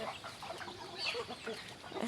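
Chickens clucking on a farm in rural Thailand, a few short, scattered calls of moderate loudness over steady outdoor background noise.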